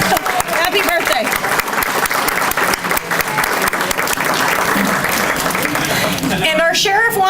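A crowd at a Calhoun County Republican Party pancake and pork event giving a round of birthday applause, loud, dense and sustained clapping throughout with voices and cheers mixed in, and a voice rising near the end.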